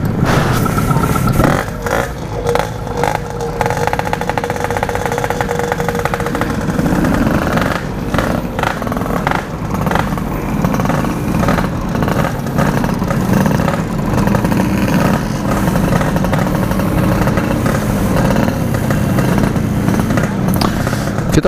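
A Yamaha RX two-stroke motorcycle warming up, its engine loud and close, idling with repeated sharp blips of the throttle throughout, a few faint voices in the background.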